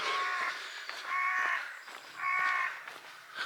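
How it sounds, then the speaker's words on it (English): A large colony of crows caws continuously near a coastal path at dawn, a dense overlapping chorus that swells in three loud waves, fairly close and with no talk. "it has the most horrendous colony of crows you've ever heard"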